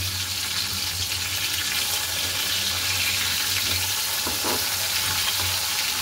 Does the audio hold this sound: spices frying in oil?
yes